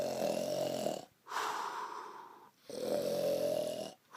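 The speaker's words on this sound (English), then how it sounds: "would you please stop snoring so I can get to" Loud rhythmic snoring up close, long rasping inhalations broken by short quiet pauses between breaths, with no talking.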